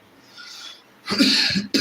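A person coughs nearby in a kitchen while making pathiri flatbread, giving a faint breath and then a couple of harsh, close bursts.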